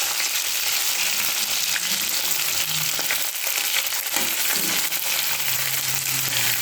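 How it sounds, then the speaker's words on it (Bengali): Katla fish frying in oil, a steady, close hiss of sizzling with crackles and occasional soft scraping, continuous and even throughout with no talk. "প্রায় ভাজা হয়েই গেছে"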